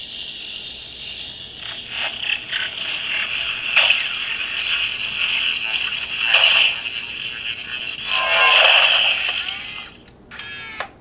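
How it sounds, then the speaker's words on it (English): Ghostbusters HasLab PKE Meter toy with motorized wings simulating overheating and breaking: a continuous mechanical whirring and ratcheting with bright electronic tones and sputtering bursts, near and moderately loud, ending in an abrupt stop. "If you hold the up button for too long, it will pretend to overheat and break."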